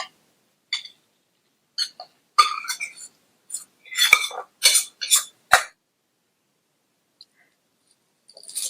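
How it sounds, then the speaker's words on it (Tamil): A spoon stirs cooked rice mixed with grated coconut in a pan over a low stove flame. Sparse, close metallic clinks and scrapes come in short clusters with quiet gaps between them. "ஸ்டவ் சிம்ல வச்சுட்டு சாதம் சூடு ஏறுற வரையும் நல்லா கிண்டி கொடுங்க"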